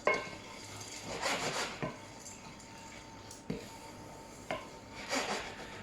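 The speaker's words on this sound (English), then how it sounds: "you can give it a little bit of a stir with a wooden spoon" A wooden spoon stirring seeds as they toast in a dry pan, giving soft scraping and rubbing strokes in short bursts separated by brief pauses, with a few light knocks against the pan, quiet and close.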